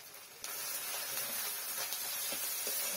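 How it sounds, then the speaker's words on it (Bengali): Chopped onion and turmeric drop into hot mustard oil in a kadai, setting off a sudden, steady, close hissing sizzle that stays loud and even, with faint crackles scattered through it. "এবার এখানে পেঁয়াজ কুচি আর হলুদ দিয়ে দিলাম।"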